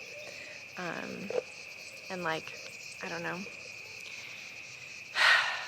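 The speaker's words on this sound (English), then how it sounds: "listening to like the crickets and the cicadas and all the different birds" Crickets and cicadas trill steadily outdoors at night in a natural setting, with a bird calling nearby; a person speaks softly in bursts over the insect drone.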